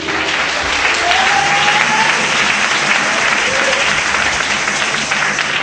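A church congregation applauding in praise of Jesus, dense sustained clapping from many hands filling the room at a steady loud level, with a faint voice briefly rising above it.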